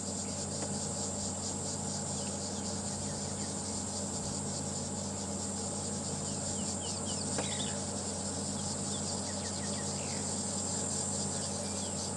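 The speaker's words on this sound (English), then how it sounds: "it really is incredible the amounts of noise these small insects generate" Small insects chirp steadily at night in the African bush on a safari drive, a dense, continuous high-pitched pulsing chorus that holds throughout, with occasional faint bird calls mixed in.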